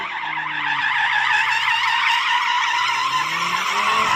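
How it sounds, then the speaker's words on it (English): An Audi RS3 hatchback in drift mode slides with a loud, sustained tire squeal that wavers continuously, the engine droning underneath, close and without talk. "And this is me drifting an RS3."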